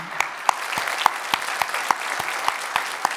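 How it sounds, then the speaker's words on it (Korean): A church congregation claps together indoors during a Sunday service, steady sharp hand claps falling into a rhythmic beat, loud and close with no talking over them. "우리 모든 성도님들 감사의 마음을 담아서 박수했으면 좋겠습니다"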